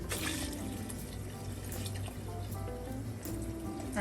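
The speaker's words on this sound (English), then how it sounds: "Gonna add just a little bit more water" Water from a pitcher runs and splashes steadily into a pot, a continuous liquid pour with small drips and gurgles throughout.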